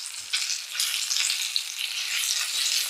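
Chicken pieces for sesame chicken sizzling steadily in a hot pan, a bright continuous fry with small scrapes and bumps as the pieces are flipped, close and fairly loud.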